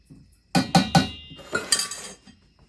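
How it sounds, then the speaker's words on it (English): A spoon clanks against a pot while stirring a brine of hot water, white vinegar and pickling salt, a few sharp metallic knocks followed by softer scraping swirls, fairly close and without talk. "Stir it up."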